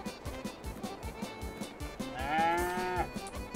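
Cows moo at feeding time on a farm. One long, loud, rising moo stands out in the second half over a busy background of farm clatter and thumps.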